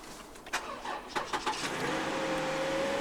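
Engine of a Toyota Highlander with 103,000 km on it cranking and catching on its live battery, a few sharp starter bursts followed by a steady, fairly loud idle hum close by.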